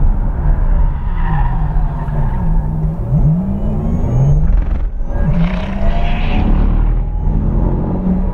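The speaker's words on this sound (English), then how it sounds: "the shriek of the tyres" Tyres of a Porsche Taycan Turbo S squeal and shriek on a race track through corners, loud and sustained with wavering pitch, over a low rumble and almost no engine noise.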